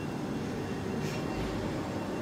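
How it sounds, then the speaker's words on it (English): Train at London Waterloo station, a steady broadband rumble of rail noise filling the whole stretch, fairly loud and close, with no talking. "Jump on this train here down to Wimbledon."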